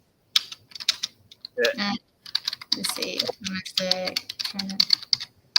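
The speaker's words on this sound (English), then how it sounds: "typing here" Fingers type steadily on a computer keyboard, a close run of quick, light plastic clicks with brief pauses, while someone talks casually over them.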